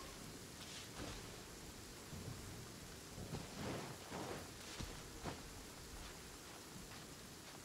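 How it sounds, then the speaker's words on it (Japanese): Heavy rain falling in Genshin Impact, a steady broadband wash with soft rumbling swells, fairly faint and continuous with no voices. "めっちゃ雨降ってる。"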